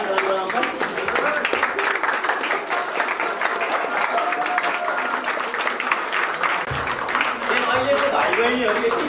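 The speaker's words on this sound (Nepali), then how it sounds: "यस यो इनर्जी कन्टिन्यु गर्न ताली" A crowd of students at a college orientation event in Namje, Dhankuta, applauds loudly and continuously for several seconds, a dense close wash of clapping with some crowd voices mixed in.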